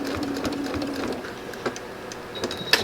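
A sewing machine runs slowly along a short quilt seam, its soft steady hum close by with a few light clicks and a brief higher whine near the end, no talking.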